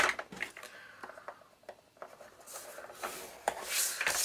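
Paper being scored with a scoring tool along half-inch lines for a mini album, giving soft, close scraping and rubbing strokes in short irregular passes, quiet and without talk.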